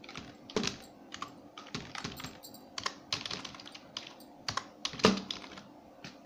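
Fingers type on a computer keyboard while entering data into an Excel spreadsheet, a quiet close series of irregular key clicks and taps in short bursts, with no voice.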